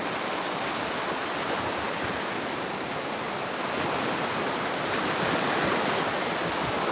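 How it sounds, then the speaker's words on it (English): Steady surf at a beach pier at sunset, a dense unbroken wash of waves rolling in at moderate loudness, with no voices. "sometimes I just want to hear the ocean sounds and look at the waves."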